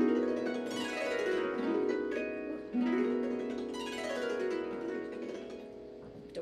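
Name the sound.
harp glissando played close to the soundboard with fingernail (Xylo Flux)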